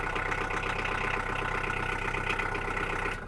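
A skid steer engine, recently swapped and rebuilt, idles after a cold start with its muffler close by and back cover open, a steady, slightly knocking rumble heard fairly near without talk.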